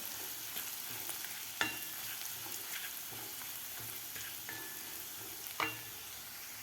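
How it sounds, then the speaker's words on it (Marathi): Ground spice paste sautéed in a pan, a soft continuous sizzle with occasional clicks and scrapes of a spatula, fairly quiet and close, with no voices. "वाटणसुद्धा आपल्याला व्यवस्थित परतून घ्यायचं आहे एक ते दीड मिनिट"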